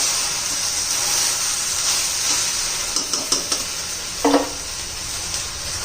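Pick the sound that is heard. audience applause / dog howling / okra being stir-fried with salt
okra being stir-fried with salt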